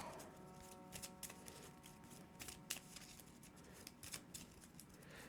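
Playing cards for the Earthborne Rangers board game being shuffled at close range: a quiet, busy run of riffling flicks and taps over low room noise, with no talk.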